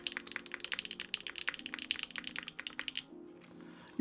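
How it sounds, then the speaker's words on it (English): A mechanical keyboard is typed on quickly, producing a quiet, close run of crisp clicks with a few deeper spacebar presses among them. The clatter then stops in a short pause, with no talking. "we still kind of have that exact same nice spacebar pop"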